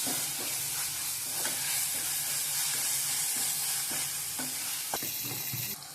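Mint leaves sautéing in a pan for prawn thokku, a steady close sizzle with scraping stirs throughout and no talking.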